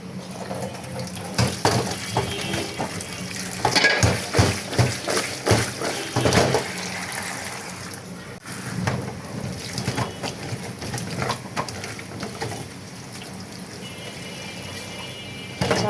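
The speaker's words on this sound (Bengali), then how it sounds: "মিষ্টি কুমড়াগুলোকে ধুয়ে নিব" Water runs steadily from a tap while cut pumpkin pieces are rinsed in a home kitchen, with splashing and knocking bursts rising and falling over the continuous flow and no talking.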